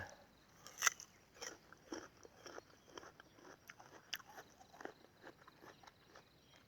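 Someone bites into and chews crisp, sweet guava (ฝรั่งกิมจู variety), giving a run of close, moist crunching bites at an irregular pace, fairly quiet, with no talking over it.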